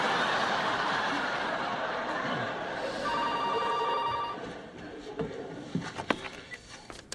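A telephone bell rings in a short electronic burst in a sitcom scene, heard over room tone and muffled voices, followed by quiet chuckling and laughter as the ringing stops.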